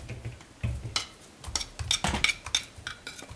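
Potatoes tipped into a large mixing bowl while preparing a vegan potato salad with red cabbage, giving a close series of soft knocks, clinks and scraping rattles against the bowl with no talking.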